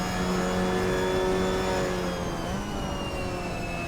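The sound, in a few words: race car engine at full throttle in video game Assetto Corsa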